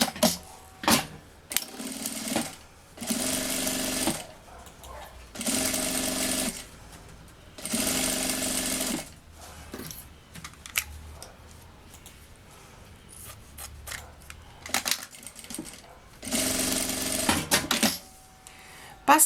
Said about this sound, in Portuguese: E passo uma costura aqui no forro.